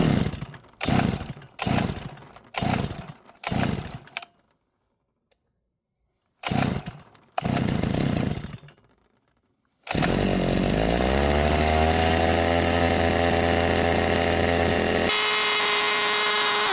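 Small two-stroke grass trimmer engine after a bad spark plug was replaced: several short loud pulls and sputters with gaps, then the engine catches and runs steadily at high revs, close by, dropping to a lower idle near the end.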